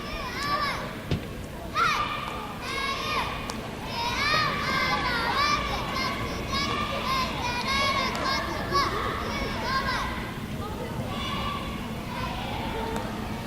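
Crowd at a cheerleading competition, a steady din of cheering and children's shouts filling the whole stretch, with people talking throughout.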